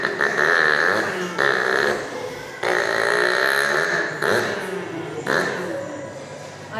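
A human voice imitates a loud motorbike passing, with several sustained, buzzy, growling bursts separated by short breaks, close and loud throughout.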